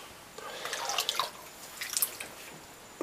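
Faint, scattered drips and small splashes of water fall from a shaving brush dipped in water, irregular and close, with quiet pauses between them.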